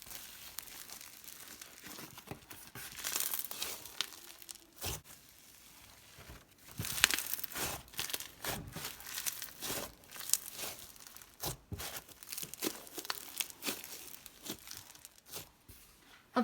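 Slime being squished and played with, giving a continuous run of close, crinkly crackles and sharp popping bursts that rise and fall irregularly at quiet volume, with no talk.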